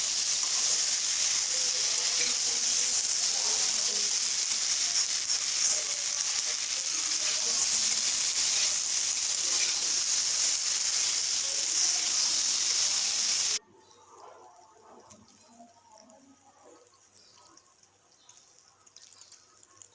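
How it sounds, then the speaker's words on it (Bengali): Water poured into a hot pan of Bengali fish curry with potatoes and spice paste makes a loud, steady hiss and sizzle that runs unbroken for about thirteen seconds, then drops abruptly to a quiet background. "জল ঢেলে মাছটা দিয়ে দেব।"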